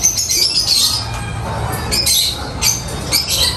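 Birds in a breeder's aviary squawk and chirp, with several sharp, overlapping calls over a busy background of rustling and smaller bird noises.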